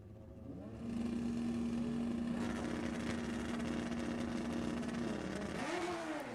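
Suzuki Katana and Hayabusa drag racing motorcycles roar off the line at an NHRA Summit Racing Series Division 7 E.T. Finals event, a loud sustained engine howl with a steady pitch that rises sharply near the end.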